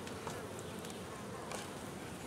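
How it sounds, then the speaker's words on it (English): Bees buzzing steadily at a homemade bottle bee feeder, a dense continuous hum from many insects close by with occasional individual passes, no voices. "We have the bees."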